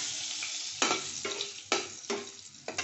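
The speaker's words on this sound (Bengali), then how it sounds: "এবার আমি এখানে জিরে তেজপাতা আর একটা কাঁচা লঙ্কা ফোড়ন দিয়ে দিলাম" Cumin seeds, a bay leaf and a green chilli sizzle in hot oil for a Bengali egg and cauliflower curry, giving a steady crackling fry broken by several sharp spatters and stirring scrapes, close and alone.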